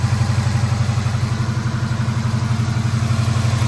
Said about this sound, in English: All right, so the engine's running.